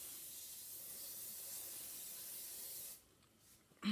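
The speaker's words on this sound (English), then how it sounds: "I'm going to spray this really well." A spray bottle misting a dryer sheet for a craft panel gives one long, steady hiss for about three seconds, then cuts off and leaves only faint room noise and a short thump at the end.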